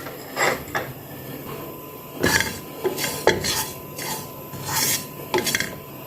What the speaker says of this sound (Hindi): दूसरे चूल्हे पे ज़ीरा लेके इसको अच्छी तरह हम भूनेंगे।